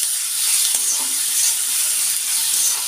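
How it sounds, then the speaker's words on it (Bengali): Drumsticks with salt are stirred in a hot pan, a loud continuous sizzle and hiss with a few soft stirring scrapes, no talk. "নুন দিয়ে দিলাম আর এই সজনে এটা দিয়ে দিলাম, দিয়ে ভালো করে নাড়বো।"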